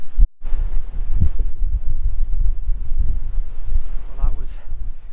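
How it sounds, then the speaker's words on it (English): Strong, cold wind buffets the microphone on the exposed coast at Torr Head on the Causeway Coast, a continuous low roar with gusty surges throughout, a brief dropout near the start and a faint higher whistle toward the end. "Really cold, really windy"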